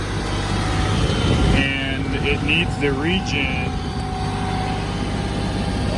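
Kioti CK3510 tractor with a tier 4 diesel engine running at a steady idle close by, a low constant drone under someone talking throughout.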